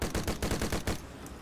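Assault rifle fire in the video game Dead Frontier 2, loud rapid automatic bursts of repeated shots for about a second, then stopping with a brief fading tail.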